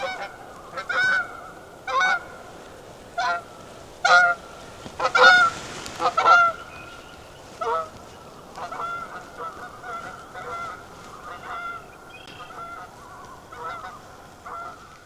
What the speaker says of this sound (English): Canadian geese going.